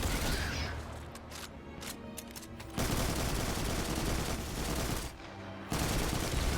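Rapid bursts of gunfire from shooting scanner drones on Europa in the video game Destiny, loud continuous automatic fire broken by brief pauses, with no talking.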